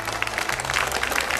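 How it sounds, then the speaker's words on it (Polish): Applause from a crowd of spectators at a knights' tournament in Chojnice, a dense, steady patter of many hands clapping from a moderate distance with no voices over it. "Wielkie brawa dla tych rycerzy."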